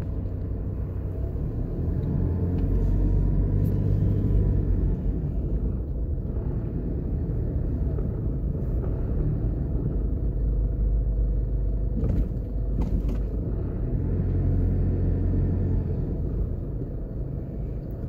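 A car drives up through a university campus in Jamaica, heard from inside as a steady, close low engine and road rumble with slight swells and no talking.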